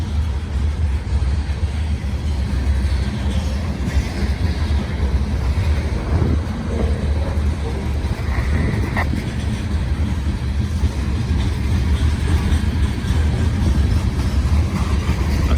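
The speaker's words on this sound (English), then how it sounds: "A unit grain train heads southbound." A southbound unit grain train rolls past in a steady, continuous low rumble with wind buffeting the microphone, a long even roar of wheels and cars with no talking.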